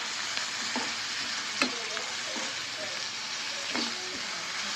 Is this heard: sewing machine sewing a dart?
no